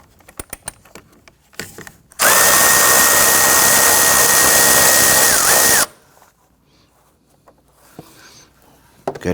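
A power tool fitted with a deep 10mm socket whines loudly and steadily for about three and a half seconds, removing a radiator clamp bolt on a 2017-2020 Hyundai Elantra, with small clinks and handling noises before and after.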